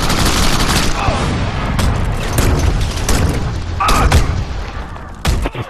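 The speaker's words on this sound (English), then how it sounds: "I just throw grenades!" Grenade explosions and rapid gunfire in an online shooter video game: loud repeated booms and bursts in close succession, with players shouting over the noise.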